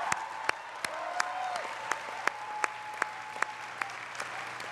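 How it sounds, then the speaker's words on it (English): Scattered, evenly spaced hand claps from a college commencement audience ring out against a quiet room hum, sparse rather than a full roaring ovation. "Please join me in a round of applause."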